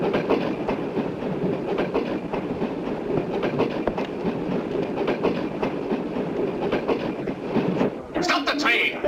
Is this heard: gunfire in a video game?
no